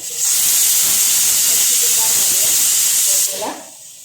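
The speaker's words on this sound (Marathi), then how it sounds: "आता आपल्या इथे कुकरच्या शिट्या होत आहेत" A pressure cooker cooking Malvani fish curry lets out a loud, steady whistle hiss of steam for about three seconds, then cuts off abruptly, with faint talk underneath.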